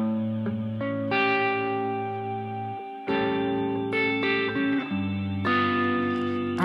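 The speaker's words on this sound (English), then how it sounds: "Just going to put the reverb on." Electric guitar played through a BOSS GT-1000 Core multi-effects unit with reverb on a light, low-gain channel, sustained chords and notes ringing out with a wet tail, close and steady, no voices.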